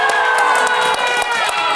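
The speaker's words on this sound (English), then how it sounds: "So this is how G4TV dies. With thunderous applause." A crowd cheering and shouting over clapping, a loud, dense roar with several voices yelling on top and a few sharp claps cutting through.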